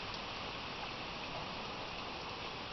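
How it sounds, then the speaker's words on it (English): Heavy rain falls steadily in Ainsdale, a dense, even hiss that stays constant and fairly faint from start to end. "I like it when it's hard rain."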